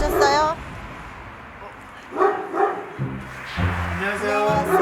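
At a factory on the outskirts of Gyeonggi Province, Central Asian shepherd dogs (Ovcharka) yip and whine at approaching visitors, with short bursts of barking breaking through as people talk and greet each other over them.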